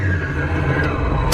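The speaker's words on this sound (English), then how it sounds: "as soon as you depress the clutch here, it makes that noise" An R34 Nissan Skyline GT-T with a faulty clutch drones and hums steadily as the clutch pedal is pressed, with a brief brighter scrape near the end.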